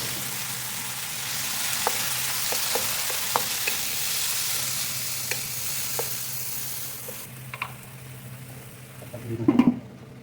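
Tomatoes frying in a pan while squid adobo is cooked, giving a steady close sizzle with a few light stirring clicks and a brief louder clatter near the end.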